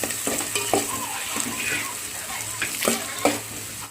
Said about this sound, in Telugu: ఆనియన్స్ వేసుకొని అన్ని ఫ్రై చేసుకోవాలి